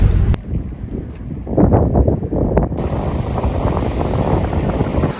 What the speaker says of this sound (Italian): il mare mosso, il vento